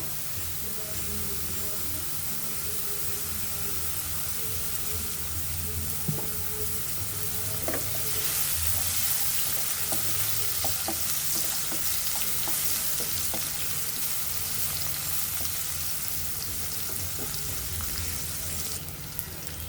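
Bitter gourd and shrimp fry in hot oil with garlic, giving a steady, dense sizzle and hiss that runs throughout, close and continuous, with faint stirring scrapes now and then.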